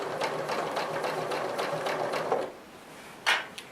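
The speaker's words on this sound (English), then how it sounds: "I'm just going to stitch up that line" A sewing machine stitches a line across a quilt block, its rapid, even needle chatter running steadily for a couple of seconds. It stops, and a short mechanical clack follows near the end.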